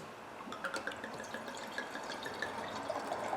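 Water swirled and splashed inside a wine glass during a quick rinse, with light trickling, dripping and small clinks over a steady watery background, close and fairly soft.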